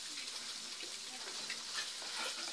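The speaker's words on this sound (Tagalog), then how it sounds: "So, igigisa po natin." Vegetables being sautéed in a pan for a Filipino coconut-milk vegetable stew, giving a steady broadband sizzle with faint scraping at close range and no talk over it.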